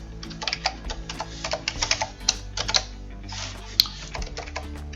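A password is typed on a computer keyboard in quick, close, irregular bursts of key clicks, with brief pauses between runs and no talking.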